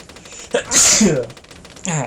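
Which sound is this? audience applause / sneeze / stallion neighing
sneeze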